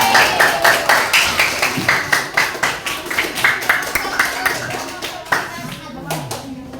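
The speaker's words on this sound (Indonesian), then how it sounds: "tepuk tangan untuk semua kelompok." A classroom of students claps together for the student groups, a dense burst of many hands that starts strong and slowly tapers, with some voices faintly mixed in.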